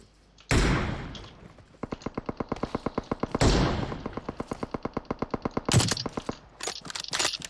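Gunfire in PUBG Mobile: loud, sharp blasts open each burst, followed by long trains of rapid, evenly spaced automatic shots. The shots are close and stand alone without talk.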